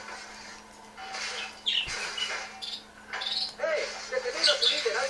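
Pet birds chirp and tweet in short bright bursts at close range, with game sound and a voice mixed in.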